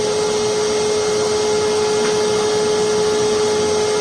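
A forced-air propane forge burner runs with a constant loud roaring rush of air and flame, steady and close, carrying a faint steady tonal hum and no speech.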